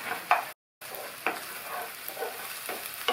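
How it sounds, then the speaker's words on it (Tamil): Scrambled egg being stirred and fried in a pan for egg fried rice, with soft sizzling and irregular scraping stirs of a spoon, quiet and close, with a brief gap of silence. "இதை நம்ம இப்போ முட்டை பொரியல்லாம் பண்ணுவோம் இல்லையா, அதுக்கு பண்ணுற மாதிரி இந்த மாதிரி பரட்டி விட்டுக்கணும்"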